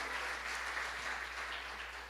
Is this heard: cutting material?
no